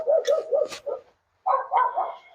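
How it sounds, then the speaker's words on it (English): A dog barks in a quick series of yips, pauses briefly, then barks again a few more times, fairly close and clear. "Sounds like we got a dog out barking at nothing again."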